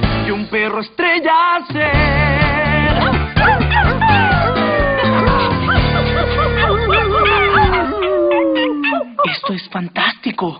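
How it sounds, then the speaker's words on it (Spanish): Dogs barking and yipping amid a busy, loud mix with music and voices, barks repeating irregularly throughout. "¡Como un perro ladra!"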